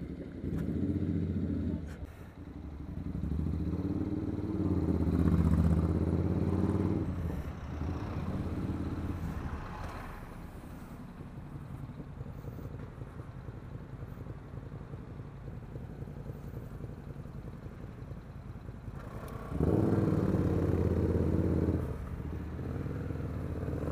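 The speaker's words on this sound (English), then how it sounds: "I've never heard a V-twin sound so bad" A V-twin motorcycle engine running rough on a road, a loud, uneven low rumble that pulses and clatters, dropping back for a stretch before surging loud again near the end.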